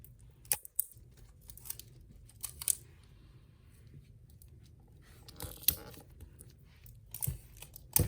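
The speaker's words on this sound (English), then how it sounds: "I am going to tape it down." Adhesive tape torn off a roll and pressed down along a zipper on a clear stadium bag being prepared for in-the-hoop embroidery, giving several sharp ripping bursts spaced across a quiet stretch with soft handling rustle between them.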